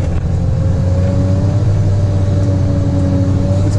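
A logging vehicle with diff locks engaged grinds up a steep bush track, giving a loud, steady low engine drone that holds constant throughout, close to the listener.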